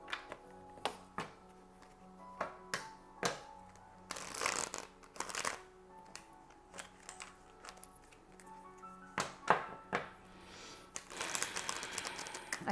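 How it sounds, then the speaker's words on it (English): Tarot cards being shuffled by hand in a quiet room, a run of crisp riffling bursts and soft card slaps spread unevenly, with a longer flurry of shuffling near the end, close and fairly faint. "So I'm going to shuffle."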